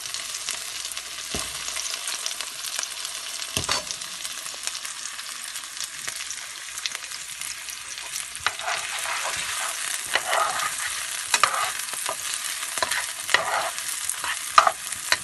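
Sausages and onions sizzle and fry in a pan for a homemade paella, a steady close crackle with occasional stirring scrapes and a brightening hiss toward the end.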